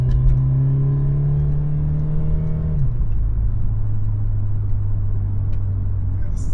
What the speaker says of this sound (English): As you can hear, the exhaust gets a bit louder as well.